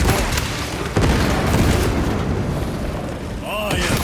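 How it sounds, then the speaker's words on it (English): A frag grenade goes off in Warhammer 40K Space Marine 2, a loud booming blast with a broad rumbling tail that fills the moment, followed by a brief voice near the end. "Frag grenade deployed."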